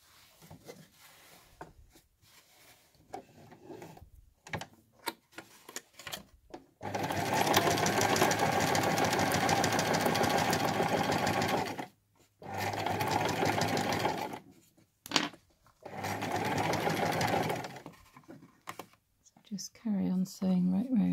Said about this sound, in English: Sewing right round back to where we started, checking that you've got both layers still together.